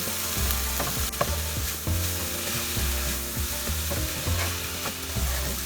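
Mixed vegetables stir-fried in a pan with soy sauce, red chili sauce and tomato sauce over medium flame, a continuous sizzle broken by repeated rhythmic spatula scrapes and taps, close up and with no voices.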